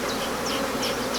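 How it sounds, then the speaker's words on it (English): European black bees, also called Welsh black bees, humming densely inside an open hive during a midsummer inspection, a close continuous buzz with individual bees droning past now and then. "They're actually European black bee."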